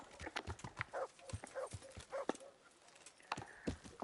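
Horse hooves clip-clop in a steady, uneven trot in the video game Kingdom Come: Deliverance, close and fairly clear, with a faint snort among the beats.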